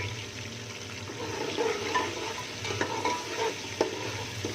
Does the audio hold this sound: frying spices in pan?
yes